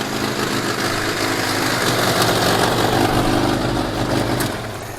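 A ZAZ Tavria car's small engine runs steadily and loudly close by, a rough, continuous mechanical drone with no voices.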